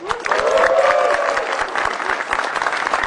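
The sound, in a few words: audience applause for a stand-up comedian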